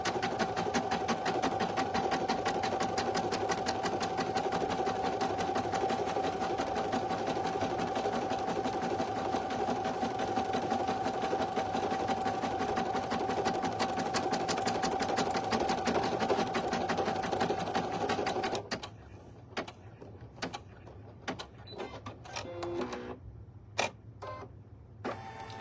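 A single-needle embroidery machine stitching a design onto a premade item runs with a loud, steady mechanical whir and rapid needle chatter for about 18 seconds, then stops abruptly, leaving faint scattered clicks and handling noises.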